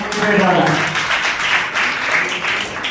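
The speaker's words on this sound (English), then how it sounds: "with a huge round of applause" A school audience at a Class XII farewell program applauds to welcome a teacher, a steady wash of many hands clapping throughout, with speech heard over it.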